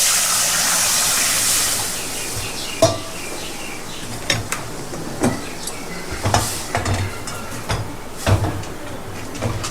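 Potatoes fry in a pan with a soft sizzling hiss, strongest at first and then fading under a scattering of sharp clinks and knocks from utensils and cookware.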